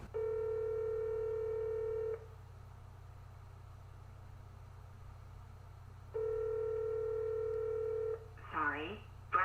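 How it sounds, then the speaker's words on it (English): Telephone call tones from a played phone call: two long, steady electronic beeps about four seconds apart over a low hum, with a recorded voice starting right at the end. "I'm actually going to play one of the phone calls right now."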